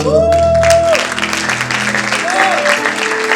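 A church congregation at a gospel gathering claps in loud, continuous applause, with voices and a sung or called-out tone rising briefly over the clapping near the start and again partway through.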